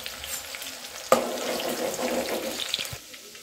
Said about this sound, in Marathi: तेल गरम झालेलं आहे। आता त्याच्यामध्ये कांदा घालायचा आणि कांदा चांगला लालसर भाजायचा।